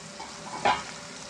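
A spoon stirs eggs into carrot in a frying pan, giving one short scraping sizzle over a soft background hiss.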